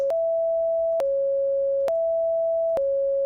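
A synthesized just intonation minor third: two steady pure tones sounding together, repeating in short blocks with brief clicks at each change, clean and alone.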